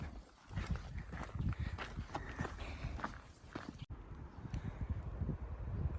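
Wind rushing steadily through trees along a mountain trail on the Lamjura La Pass trek, a continuous broad hiss at moderate level with soft rustling and a few footstep-like thumps, no voices.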